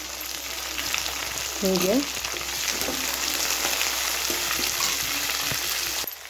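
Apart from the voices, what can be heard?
tomato and onion frying while being stirred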